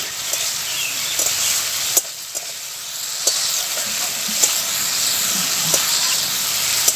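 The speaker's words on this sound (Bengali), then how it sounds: "সামান্য একটু জল দিয়ে মশলাটাকে কষিয়ে নেব।" A Bengali-style spice paste with tomato, salt and a little water fries in a pan. It gives a loud, steady, close-up sizzle and hiss, broken by occasional sharp scrapes from stirring about every second or two.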